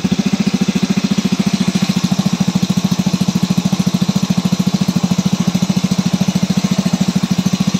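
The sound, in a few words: engine running after overhaul, running on leftover petrol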